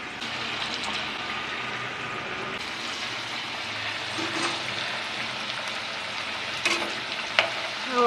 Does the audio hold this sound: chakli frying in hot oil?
yes